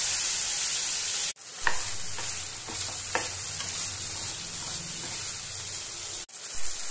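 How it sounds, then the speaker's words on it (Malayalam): Four sour tomatoes fry in a pan for a ridge gourd chutney, giving a steady close sizzle broken by a few stirring scrapes and two brief cut-outs. "4 തക്കാളി ചേർത്ത് കൊടുക്കണേ. നന്നായിട്ടൊന്ന് വഴറ്റിയെടുക്കാം."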